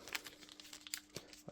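Pharmaceutical leaflet paper folded by hand, giving quiet, close crinkles and soft crisp rustles in brief bursts with a sharper crease snap near the end, no voices present.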